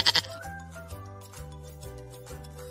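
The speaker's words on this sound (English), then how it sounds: "goat," A goat bleats in a short burst at the start, then a bouncy children's song continues with steady music and no further animal calls.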